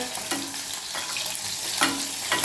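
Curry leaves and garlic sizzle steadily in hot oil in a home kitchen, a continuous close crackle with a few brief stirring scrapes and no voices.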